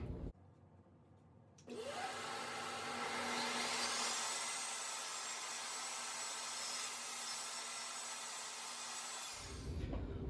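A power saw cutting a piece of wood held against a stop block while building a stool: a motor whines up to a steady loud whirring cut lasting several seconds, then spins down.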